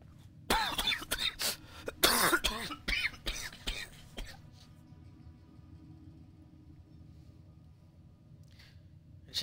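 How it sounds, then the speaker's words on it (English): A burst of several harsh coughs and throat clearing close up during a Warframe game session, then fading to quiet background hum. "I just cough so hard"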